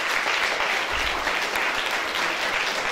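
An audience at a sports awards ceremony applauds continuously, a dense, even wash of clapping filling the whole moment at steady loudness.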